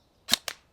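An airsoft gun fires BBs in a BB quality test, with two sharp, close snapping shots about a fifth of a second apart, loud and alone.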